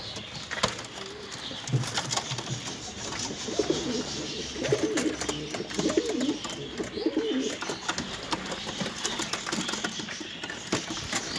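Bango pigeons coo softly inside a coop, low, rolling calls repeated through steady background rustling and scratching, with no talking.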